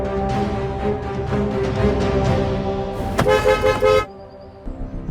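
Car horns honking in a heavy traffic jam: sustained layered honking with overlapping tones, loud and continuous, ending in a sharp brighter blast before fading to quieter traffic, with no talk.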